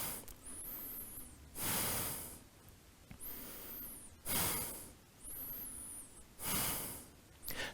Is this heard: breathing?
yes